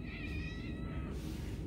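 A brown tabby cat gives a single drawn-out meow, close and fairly quiet, in a shelter room.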